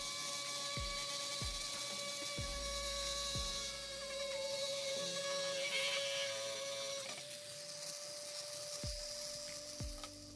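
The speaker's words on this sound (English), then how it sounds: "I decided to get my Dremel out to get them nice and shiny again" A Dremel rotary tool with a buffing pad and Smurf Poo polishing compound shines up brass on a Spyderco knife, a faint steady high whine with pitch shifts as pressure changes, interrupted by soft low knocks from handling.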